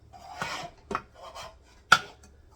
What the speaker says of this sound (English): Try not to scrape too much on my pan.